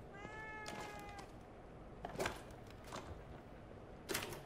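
A cat meows in the video game The Evil Within 2, with a clear drawn-out meow followed by several shorter, sharper meows spaced a second or two apart, close and fairly quiet.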